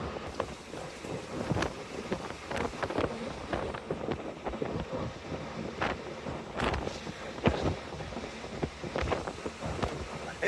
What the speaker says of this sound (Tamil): நல்லா ஜில்லுன்னு காத்து வேற அடிக்குதா